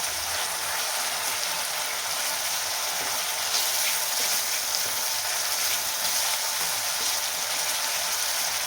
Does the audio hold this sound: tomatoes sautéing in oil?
yes